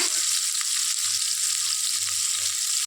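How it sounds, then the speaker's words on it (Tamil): Onions sizzle in hot oil as they fry toward golden brown for a chicken leg rice dish, a close, continuous hiss with faint stirring underneath. "ஆனியன் பொன்னிறமாக ஆக வச்சு"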